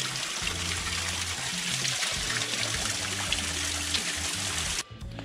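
Water trickles and splashes steadily at a spring beside a hiking trail in Pedra Branca State Park, a continuous close hiss of running water that cuts off abruptly near the end.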